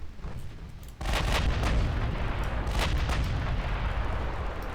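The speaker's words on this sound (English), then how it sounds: "Another ammo detonation." A warship ammo detonation in the naval battle game Ultimate Admiral Dreadnoughts erupts as a sudden loud booming blast after a quieter rumble, followed by a sustained roaring rumble with further heavy thuds of gunfire.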